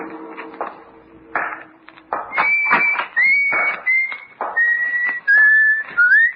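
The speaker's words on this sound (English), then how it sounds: "Whistle while I work." A man whistles a bright, wavering tune in a radio drama, with short phrases and sliding notes rising and falling over a quiet room, clear and close.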